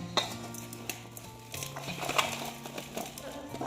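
Ground spices are mixed into a radish pickle with irregular clinks, scrapes and clatters of a utensil against a bowl, over quiet tonal background sound.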